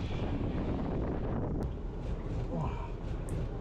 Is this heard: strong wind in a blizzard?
yes